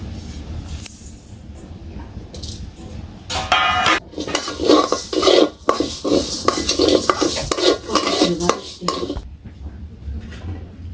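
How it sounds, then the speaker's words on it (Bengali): Mung dal frying and being stirred in a pan in a village kitchen, with a steady run of scraping, clinking spatula strokes against metal and a faint sizzle underneath, quiet at first and then busier. "এখন আমি মুগের ডালগুলো ভেজে নেই"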